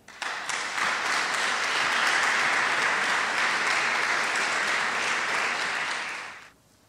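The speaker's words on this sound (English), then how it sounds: "let's give them a full round of applause." An audience at a national oratorical festival breaks into strong, sustained applause, many hands clapping evenly for around six seconds before the sound fades quickly to quiet.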